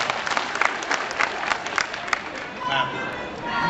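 Comic Con 2009 Supernatural panel audience breaks into loud, sustained applause and cheering from a large crowd, steady clapping throughout with some whoops rising near the end.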